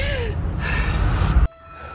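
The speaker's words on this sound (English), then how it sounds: "We're cued in by Rey, who is heavily breathing once again" Heavy, strained breathing from Rey in the Star Wars Episode IX teaser trailer, a long ragged breath under swelling score and rumble that cuts off sharply into quiet.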